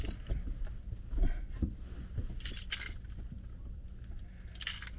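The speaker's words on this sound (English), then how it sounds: "Get the keys out." Keys jangle as they are pulled from a pocket, bright metallic clinks and rustles in a few short bursts close by.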